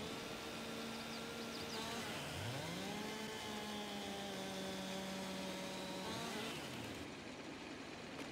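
A saw from a mod in the video game Farming Simulator 22 drones steadily in the background, its motor pitch dipping and rising, while heavy engine noise and speech fill the mix.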